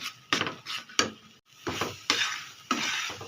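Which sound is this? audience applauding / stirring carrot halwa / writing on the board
stirring carrot halwa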